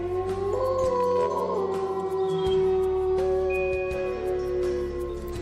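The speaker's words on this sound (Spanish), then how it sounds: "las manadas de lobos hambrientos aullaban durante la noche" A hungry wolf pack howls at night, several long, overlapping wailing tones rising and falling together, loud and sustained.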